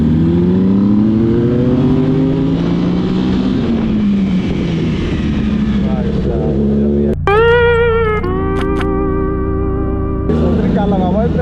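Superbike, a CBR or ZX-10R litre-class sport bike, revs loudly in a street market with rising and falling engine roars and sharp throttle blips, while people talk nearby.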